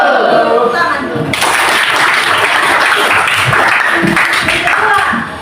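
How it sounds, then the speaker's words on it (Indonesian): A class of students applauds together, a dense sustained clapping that swells in loudly after the first second and continues steadily, with a voice speaking over the start. "Mantap, tepuk tangan."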